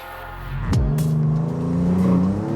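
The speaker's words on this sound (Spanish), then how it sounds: "Lo mejor del motor no es solamente esta impresionante aceleración" Maserati MC20 Cielo supercar engine rising in pitch as it accelerates, a loud close drone with a sharp swell near the start, no talking.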